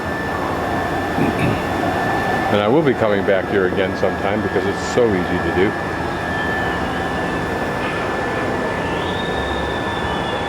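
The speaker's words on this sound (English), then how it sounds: "There's a plane coming in." An airplane approaches over Mexico City, a steady broad roar that swells faintly in the background while someone talks over it.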